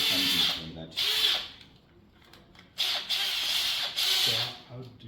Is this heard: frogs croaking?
no